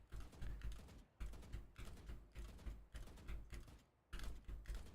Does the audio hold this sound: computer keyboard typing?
yes